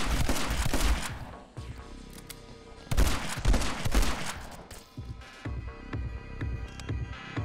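Shotgun blasts and gunfire in the video game My Friend Pedro, loud bursts of shots in clusters with booming impacts and a throbbing game soundtrack underneath.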